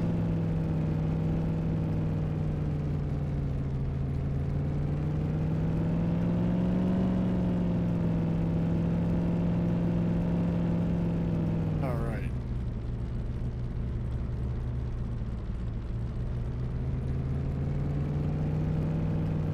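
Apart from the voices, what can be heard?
car driving in Farming Simulator 17 video game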